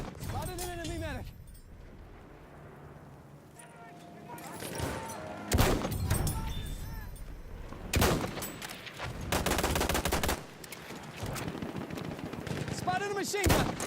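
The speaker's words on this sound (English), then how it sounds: "machine gun!" Machine gun fire in the video game Battlefield 1: loud, close bursts of rapid automatic shots, broken by short pauses and heavy blasts, with a few quieter stretches between volleys.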